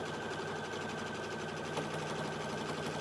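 A sewing machine stitching a quilting line through a quilt sandwich, a steady fast mechanical whir and hum running continuously at a low, even level, with no voices.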